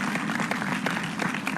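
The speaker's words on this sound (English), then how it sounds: "please put your claps together for Toastmaster Hanan Haloush" An audience at a Toastmasters meeting applauds, many hands clapping in a dense, sustained burst that holds steady and moderately loud for the whole stretch.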